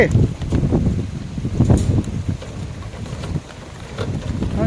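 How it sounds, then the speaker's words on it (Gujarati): Unseasonal March rain storm with hail and strong wind roars against the microphone in loud gusting rumbles, with someone talking intermittently over it. "વરસાદ ચાલુ થઈ ગયો."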